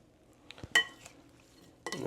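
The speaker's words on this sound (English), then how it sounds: "And then simply stir to combine." A spoon stirs tuna poke in a bowl, dressed with toasted sesame oil and soy sauce, making a few faint, scattered clinks and a soft scrape in a quiet kitchen.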